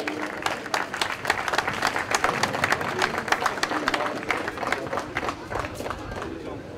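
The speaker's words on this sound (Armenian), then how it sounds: "Ձեր ծափարձները երկուսին էլ" An audience at an Armenian MMA fight event claps for both fighters, with dense, continuous applause and some crowd noise throughout, fairly loud and close.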